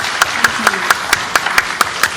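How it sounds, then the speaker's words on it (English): After an evening conversation event, a small audience claps in a steady, evenly spaced rhythm, about nine sharp claps standing out clearly over a low room background, with faint voices underneath. "And a round of applause."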